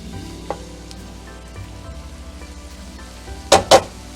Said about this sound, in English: as soon as you hear the garlic start sizzling